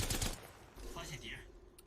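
Rapid Nemesis and Havoc rifle fire rattles at range during an Apex Legends tournament match, dense bursts at the start that fade lower under excited commentator talk.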